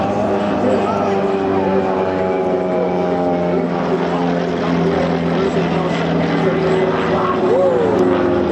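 Several autogyros at a seaside air show in Clacton-on-Sea, Essex, drone loudly and steadily with propeller hum as they fly past, under an announcer's commentary.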